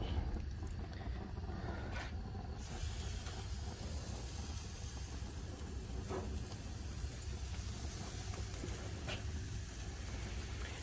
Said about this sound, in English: the next step is to go ahead and put the steak on the grill